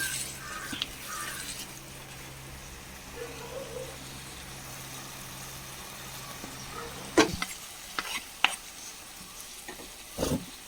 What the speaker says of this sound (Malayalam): ഇതും കൂടി ചേർത്തൊന്ന് നന്നായി മിക്സ് ചെയ്യട്ടെ.